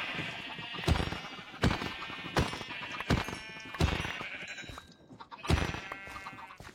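Sheep in the Minecraft video game bleat over and over, a string of loud, close, buzzy calls spaced about a second apart with short gaps between them, with no talking.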